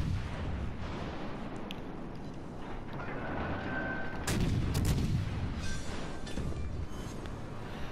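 Naval gunfire in the World of Warships: Legends video game: battleship shells boom and crack in a brief heavy cluster midway, set against a steady rumbling game soundscape.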